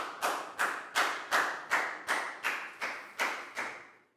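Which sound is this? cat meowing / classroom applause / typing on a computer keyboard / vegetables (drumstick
classroom applause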